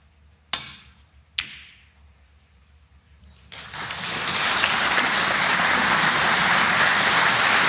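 Snooker crowd applause after a shot in a match between Trump and Mark Allen: two sharp ball clicks, then clapping that swells into loud, sustained applause.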